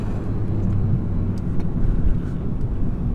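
A 2013 Renault Clio with a 0.9 litre engine while driving, a steady low engine drone with road rumble from inside the cabin, fairly loud and unbroken for about three seconds.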